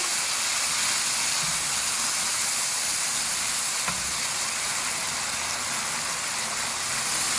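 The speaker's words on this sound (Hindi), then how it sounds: "लहसुन अदरक के पेस्ट को हमने फ्राई कर लिया" Garlic ginger paste fries in hot oil in a karahi, a loud, dense, unbroken sizzling hiss that stays level from start to finish.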